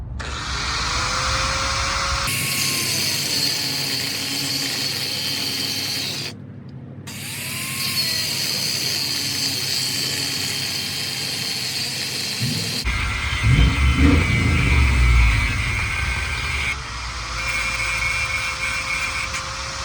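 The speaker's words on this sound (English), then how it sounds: "So let me grind those down real quick and get them on." An angle grinder grinds down the lug studs of a two-piece wheel adapter during a 6-to-8 lug conversion on a Silverado. The steady, loud, gritty whine runs almost without a break, pausing and changing pitch as the cut shifts.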